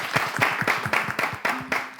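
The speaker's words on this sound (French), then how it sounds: "Applaudissez pour les 2 femmes." Brief, dense applause from a small audience for two women, a quick patter of many hands clapping at close range.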